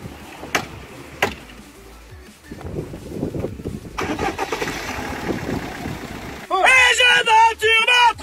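A kit car engine cranks and catches as it starts for a test drive, with clicks and rumbling at first and then a loud, steady running engine up close, while people talk over the noise.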